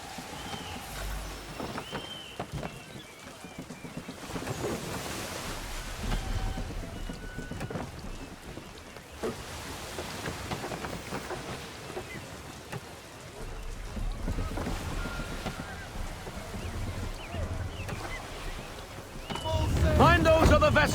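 Sailing ship in Assassin's Creed III pushing through shallow water, with steady washing water and rain-like hiss, low rumbles and swells, and bursts of game dialogue throughout, surging louder near the end.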